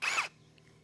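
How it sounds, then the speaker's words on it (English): A brief whir of a power drill backing out a screw on an RV door lock, one loud close buzz lasting about a quarter second before cutting off to near silence. "what we're gonna go ahead and use the power drill."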